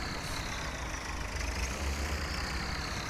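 Tractor engine idling in a farming video game, a steady low rumble with a continuous hum, loud and unbroken with no talk over it.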